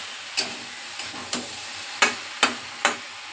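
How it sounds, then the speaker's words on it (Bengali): Malabar spinach (pui shak) sautés in a pan with a soft background sizzle, punctuated by about six sharp, regularly spaced scrapes or taps of a spatula against the pan. "পুঁই শাকটা কষানো হয়ে গেছে"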